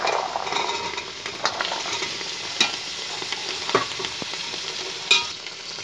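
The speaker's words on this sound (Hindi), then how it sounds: "अब इसमें सब्जी डालते हैं। ये आलू, गोभी, मटर है" Diced potatoes, cauliflower and peas frying in hot oil in a pan, a continuous close sizzle broken by several sharp scrapes and clinks as a utensil stirs them, with no voices.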